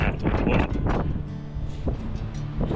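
Wind gusting across an open lakeside lookout on Lake Tisza at Kiskörei, a broad, steady roar with buffeting against the microphone throughout, loud and close, with no voices.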